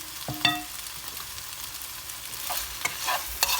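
Cornflake-coated chicken strips fry in a pan with a steady sizzle, interrupted by a few sharp utensil clinks and scrapes as the pieces are moved about, close and fairly quiet, with no talking.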